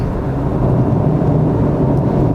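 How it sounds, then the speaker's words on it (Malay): Loud, steady rushing roar of strong wind buffeting a moving car on a Malaysian highway, broadband and continuous with no voices. "Wah, tengok angin kuat ni sahabat"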